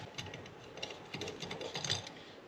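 Fuel bowl screws being broken loose on a Suzuki DRZ400 carburetor, a series of close, faint mechanical clicks and ratcheting ticks in short bursts.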